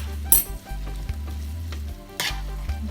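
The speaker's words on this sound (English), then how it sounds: "I'm just gonna give it a stir here." Minced meat and sweet peas sizzling in a frying pan while being stirred, a steady close fry with a few scraping spoon strokes and brief louder spatters.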